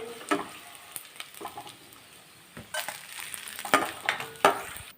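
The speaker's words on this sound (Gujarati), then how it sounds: "સૌથી પહેલાં આપણે ગુંદને ઘીમાં તળી લેવાનું છે" Edible gum (gond) frying in hot ghee over a medium flame, a soft crackling sizzle broken by bursts of popping and the scrape of stirring in the pan.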